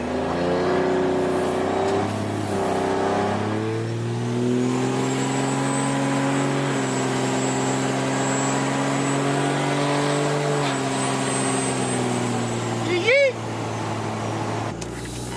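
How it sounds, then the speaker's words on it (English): A vehicle engine hums steadily under a thin high whine that rises as it accelerates, with a brief sharp chirp near the end. "let you guys hear a little bit of turbo, see if you can still hear it"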